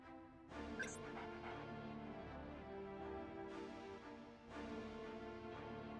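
A dog in the game Jet Force Gemini makes faint, high whimpering and yipping sounds in short bursts over continuous game background sound, with no talk.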